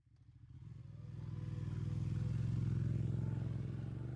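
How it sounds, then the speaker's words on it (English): A motorcycle engine in the video game ACE Academy idles and builds into a deep, throbbing rumble that grows louder and holds steady as the bike is revved several times. "I revved the bike several times, enjoying the sound before driving into the street."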